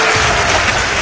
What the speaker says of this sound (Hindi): एक बार जरा जोरदार तालियां बजा दीजिए